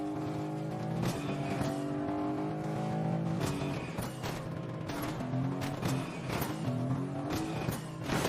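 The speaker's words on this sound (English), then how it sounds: "There was a car outside the gate of Lavish, so I got into it and started driving into zone." A car in the Fortnite video game drives along with a revving engine that rises and shifts pitch repeatedly, with sharp impacts and bumps scattered throughout, loud and close.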